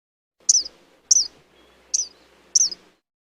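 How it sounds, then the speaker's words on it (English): Four sharp, high-pitched kingfisher calls ring out at steady intervals, each a short piercing note with a faint tail, clear and fairly close against a quiet background. "Kingfisher."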